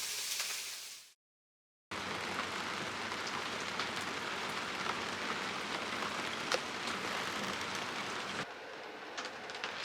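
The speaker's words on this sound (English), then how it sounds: "So it's been raining non-stop" Steady rain patters on a catamaran's hard surface, a dense hiss with occasional louder drops, briefly cut off near the start before resuming.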